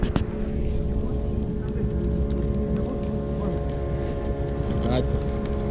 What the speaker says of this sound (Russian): Катер.